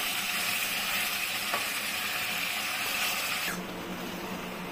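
A tomato and spice masala for a katla fish curry fries and is stirred in a pan, giving a continuous close sizzle with a short scrape partway through before the hiss softens.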